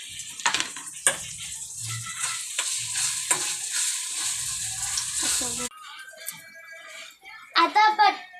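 Tomatoes fry in a pan with a bright hiss and occasional stirring scrapes. After several seconds the sizzle cuts out and a person talks over near silence.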